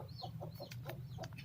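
Brief, soft clucks from foreign-breed chickens feeding on bread repeat in a quick steady pulse near at hand over a low rumble.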